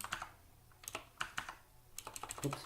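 Computer keyboard typing a command during an Arch Linux install, close, quiet irregular key clicks in short bursts, no talking.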